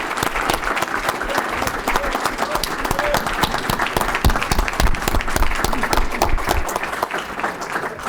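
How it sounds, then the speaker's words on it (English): An audience at a policy panel event gives the panelists a round of applause: dense, sustained clapping from a crowd, steady and fairly loud throughout with no break. "let's give our panelists one more round of applause."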